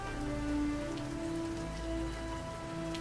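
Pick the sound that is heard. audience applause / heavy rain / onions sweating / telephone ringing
heavy rain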